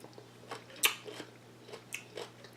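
Close, quiet crunching as coleslaw is chewed, a sharp bite followed by several softer crisp chews in an uneven rhythm against a faint steady hum, no talking.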